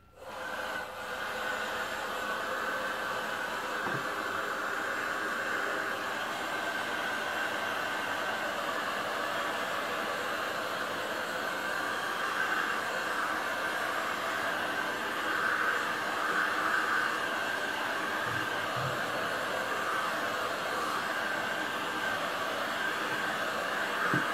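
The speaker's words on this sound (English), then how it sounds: "Just want to heat it for a second. Make sure it's nice and fluid." A heat tool blows hot air over resin poured on wood, giving a steady, close, even whooshing hiss that runs without a break for about twenty seconds, with no voices.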